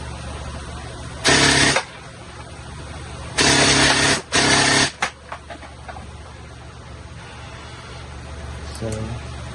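A Jingji SLR V5 toy gel blaster fires full auto in three short loud buzzing bursts, the second two back to back, followed by a few scattered clicks and a faint whir near the end.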